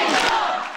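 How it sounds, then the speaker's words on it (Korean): Crowd of supporters at a political rally in the National Assembly erupts in loud, sustained cheering and shouting as a lawmaker appears, a dense roar filling the short moment before easing slightly at the end. "김진표 의원이 등장하자 환호가 터져 나옵니다"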